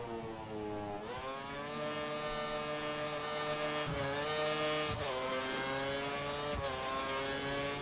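Race car engines in F1 2013, racing through qualifying at the England circuit: a steady high-pitched whine climbs through the gears, with brief dips at each shift around every second, loud and continuous.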